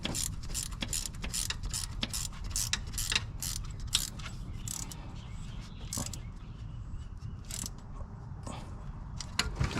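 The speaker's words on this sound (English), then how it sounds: "ratcheting wrench to the rescue" A ratcheting wrench clicks in rapid, uneven bursts while tightening a bolt on a Nissan Xterra, close and fairly loud, with brief pauses between strokes.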